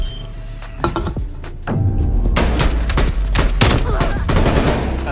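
Rapid bursts of video game gunfire crackle in a steady stream, loud and close, with a few heavier single shots standing out against the dense firing.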